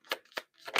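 Three quick riffling bursts of tarot cards being shuffled, close and soft, with short pauses between them.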